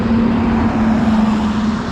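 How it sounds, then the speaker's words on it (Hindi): Slow-moving traffic on the national highway at Bharuch gives a loud, close, continuous engine drone with a steady low hum and a rumbling road wash, with no talking. "स्लो मूविंग ट्रैफिक, भीड़ तो है नहीं ज़्यादा"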